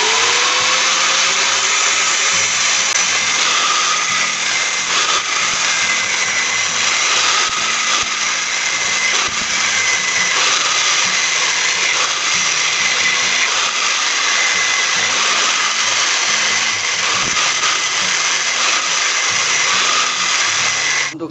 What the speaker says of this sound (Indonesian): Nah, ini akan saya gerinda ya teman-teman menggunakan gerinda.